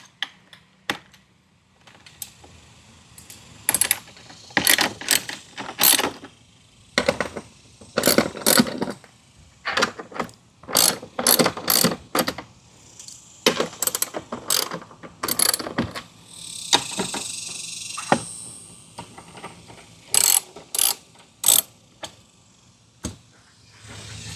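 A ratchet wrench clicks in quick bursts as it loosens four bolts on a Mercedes-Benz. The sharp ratcheting runs comes close and loud, with short pauses between strokes and no talking.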